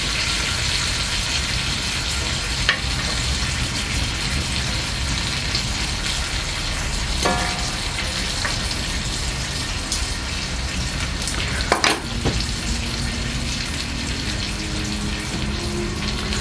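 Bacon cooks on a grill with an even, rain-like sizzle that holds steady throughout, broken by a couple of sharp clinks and a brief hiss, and no voices.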